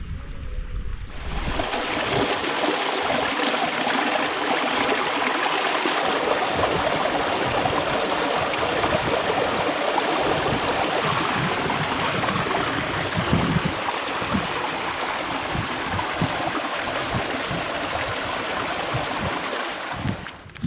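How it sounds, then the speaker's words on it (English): A creek in the Northern Ontario wilderness rushes steadily as it drains into a lake, a dense, continuous wash of flowing water heard close and loud with no talking. "here's that creek that drains into the lake I'm on"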